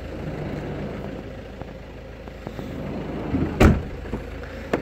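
An 18-plate Mercedes-Benz Vito XLWB 119 CDI automatic van with a 190 bhp Euro 6 diesel engine idles with a low, steady rumble, broken by a few small knocks and one sharp thump.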